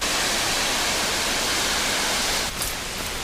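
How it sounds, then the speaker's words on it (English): Loud, continuous rushing roar of a waterfall, a dense steady wash of falling water heard nearby with no other sounds standing out. "You hear the waterfall?"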